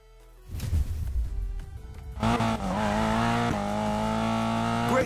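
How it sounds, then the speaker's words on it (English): Car drifting in Need for Speed Payback: a loud, sustained tire squeal over a revving engine, starting after a short burst of engine noise and holding steady to the end. "Lighting up those tires is a piece of cake."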